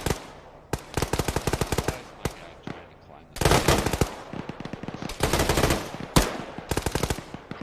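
Rapid automatic rifle fire from a squad during infantry combat training near a village, loud bursts and single cracks overlapping in long sustained volleys with brief pauses between them.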